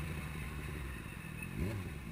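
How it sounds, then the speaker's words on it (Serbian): A motorcycle ridden on the road gives a steady, low engine drone mixed with wind rush, with a brief rise in revs near the end. "vozim motor skoro svaki dan"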